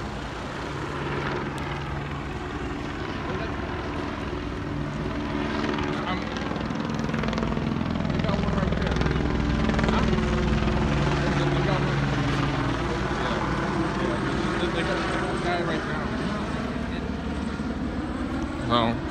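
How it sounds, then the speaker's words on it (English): Steady rotor drone of a Los Angeles sheriff helicopter hovering nearby, a constant low throbbing that holds for the whole stretch, with faint voices underneath. "See how long helicopter's staying."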